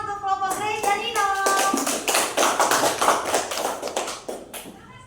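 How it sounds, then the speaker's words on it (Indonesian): Students in a junior high school classroom in Ende clap their hands together, a dense burst of overlapping claps after a voice briefly speaks at the start, fading out toward the end. "Kita berikan tepuk tangan"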